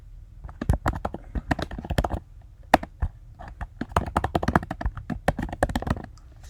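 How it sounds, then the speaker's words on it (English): Steady typing on a computer keyboard, a quick uneven patter of close key clicks with brief pauses, fairly quiet and with no voices. "I typed into my text box"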